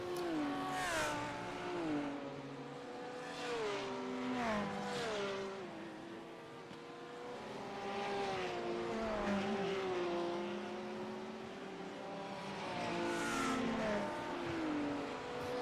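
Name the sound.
race cars driving at Nurburgring in video game iRacing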